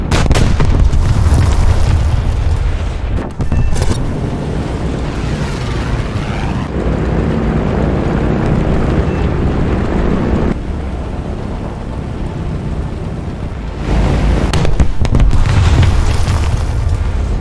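Massive 5000 kg bombs explode in the War Thunder video game, giving loud, deep booming blasts with long rumbling tails that surge, fade and surge again.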